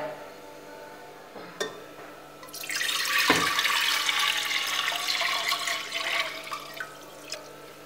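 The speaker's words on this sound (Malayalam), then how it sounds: "കുക്കറിലേക്ക് അഞ്ച് കപ്പ് വെള്ളം ഒഴിക്കാം" Water pours steadily into a metal pressure cooker for several seconds after a couple of sharp clanks, a broad rushing splash that continues to the end.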